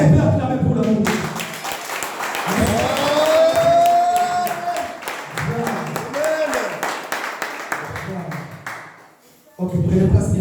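A church congregation claps and cheers in a steady wash of applause while a preacher keeps talking loudly over it, the noise fading out near the end.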